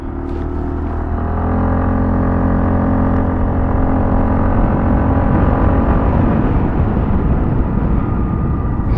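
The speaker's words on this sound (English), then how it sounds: "Amin, going hard on the gas" An Aprilia SXR160 scooter engine is revved hard under acceleration, its loud, close drone climbing steadily in pitch and holding at a sustained high whine.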